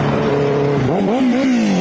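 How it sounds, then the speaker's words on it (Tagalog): A motorcycle approaches along a road, its engine a loud, close drone that climbs and wavers in pitch as it nears, with no voices over it. "pag upo ko pa nga lang ay may narinig agad akong parating na motor"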